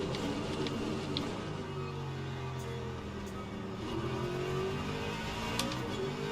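GT3 race cars, including a McLaren and a Mustang, drone around Fuji in the racing game Le Mans Ultimate, with several engines whining and shifting pitch together at a steady, continuous level.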